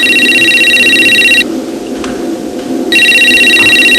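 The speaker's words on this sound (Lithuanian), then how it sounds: "Aš negaliu pakęsti, kad per mano pamoką skambintų mobilus telefonas" A mobile phone rings during a dance lesson, loud repeated electronic ringtone bursts with a brief pause in the middle, close to the microphone.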